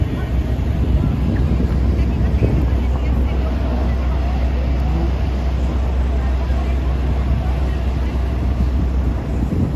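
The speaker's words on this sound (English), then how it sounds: "A little bit of chaos, a little bit of sound, a little bit of traffic." Nighttime Manhattan street traffic near Times Square fills the air as a dense, constant roar of engines and wind-buffeted city noise, loud and unbroken throughout.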